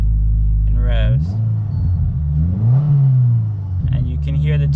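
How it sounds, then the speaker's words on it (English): A 2022 Subaru WRX fitted with a Perrin charge pipe revs up and settles back in a few rising and falling engine sweeps, with the turbo spooling, while someone talks over it at close range. "you can hear the turbo spooling and it's fine"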